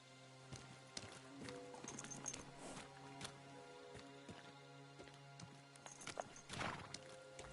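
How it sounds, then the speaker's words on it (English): Horses' hooves clip-clop on hard ground in the video game Kingdom Come: Deliverance II, an uneven run of steps with faint clatters and a low hum beneath. "The horses are here."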